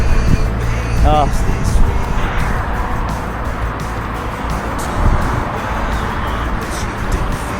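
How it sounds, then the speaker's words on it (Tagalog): Fast cars rushing past on a roadside while a family walks along it, a steady broadband roar of passing traffic with a couple of louder surges, voices talking over it. "Ang bibilis na sasakyan dito"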